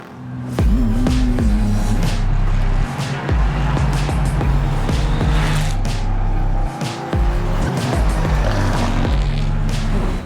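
Onboard a Ferrari 296 GT3 race car at the Mugello circuit during a Le Mans Cup round, the engine screams loudly and continuously through repeated upshifts and downshifts, with abrupt gear-change breaks and clattering cockpit noise.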